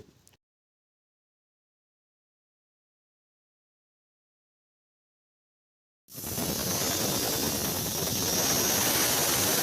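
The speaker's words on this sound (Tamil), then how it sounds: "இப்போ வந்து ஏரை வச்சு நம்ம ஃபுல்லாக க்ளீன் பண்ணுறோம்" Compressed air blasts across an old, rusty brush cutter engine during restoration. After about six seconds of silence, a loud, steady, broadband hiss starts abruptly and holds to the end.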